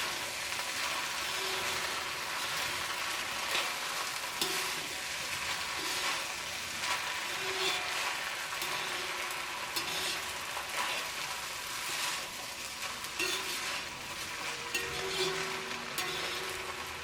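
Broken wheat upma with grated coconut and spices sizzles steadily in a pan over a medium flame while it is stirred, with soft scraping throughout and no talking.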